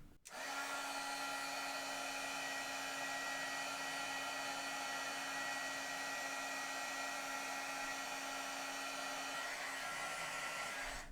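Heat gun blowing concentrated hot air onto cardstock to melt embossing powder, a loud steady whooshing roar with a faint whine held unbroken for the whole stretch, no voices.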